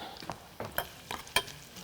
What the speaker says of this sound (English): Have that sizzle.